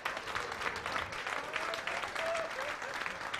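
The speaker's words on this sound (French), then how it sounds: "Veuillez applaudir très fort." Brief, steady burst of crowd applause for biodegradable plastics, continuous and fairly faint, with a few voices faintly audible within the clapping.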